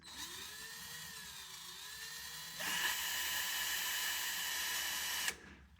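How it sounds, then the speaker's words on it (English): A power drill runs a larger bit into a hole to drill out a snapped bolt, whining with a rising pitch at first, then grinding at a higher, steady pitch through the workpiece before stopping abruptly. "And increasing the size of that hole until I drill this whole thing out."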